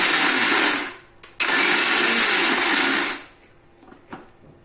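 A kitchen blender grinds raw green mango chutney in two loud bursts: a long whirring run, a brief pause, then another sustained run that stops abruptly, leaving faint clatter and quiet.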